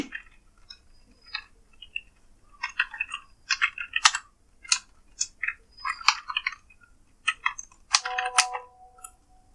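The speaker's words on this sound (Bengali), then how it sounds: "আমি লিখে এন্টার করলাম আমার জিমেলটা লিখে" Rapid clicking keystrokes on a computer keyboard while a Gmail address is typed, arriving in short irregular bursts with brief pauses, close and fairly crisp, with no voices.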